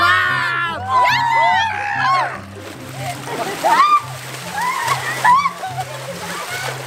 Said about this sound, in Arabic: نحن هلا بالمسبح تعودنا على برودة المي